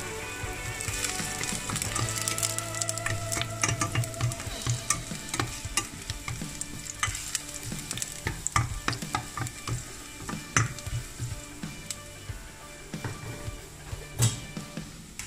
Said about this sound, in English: And it's already heating garlic.